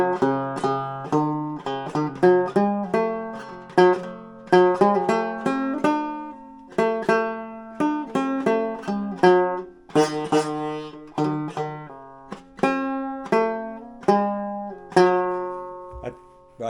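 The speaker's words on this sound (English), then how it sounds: "I have never played a banjo with nylon strings." A Stromberg Cuppophone banjo strung with nylon strings plays the Archie Bunker show theme as a plucked melody. Notes are soft-attacked and quickly decaying, with strummed chords and single lines in a lilting rhythm, heard close and alone without talk.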